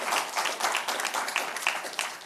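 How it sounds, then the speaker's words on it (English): A small audience at a climate-change and environment news event applauds a guest, producing a modest, slightly uneven patter of clapping that is fairly faint, with individual claps poking through and no speech. "let's give him a round of applause"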